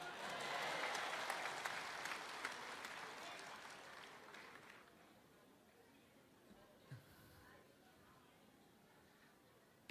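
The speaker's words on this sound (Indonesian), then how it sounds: "Boleh tepuk tangan?" Audience applause at an interfaith speech gathering, with clapping strongest at the start and fading over several seconds into quiet room noise with a few scattered claps.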